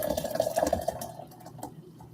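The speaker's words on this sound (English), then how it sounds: "Let's add this water." Water poured into a pot during home cooking, a short bright splashing pour for about a second that then trails off into quiet, heard up close without speech.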